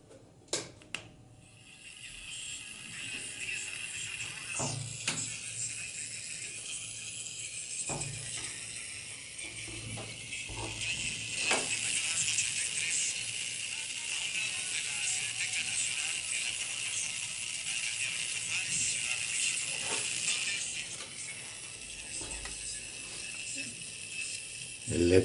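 A homemade AM radio receiver switched on at maximum volume gives a steady hiss of static after some clicks, with scattered crackles and taps over about twenty seconds.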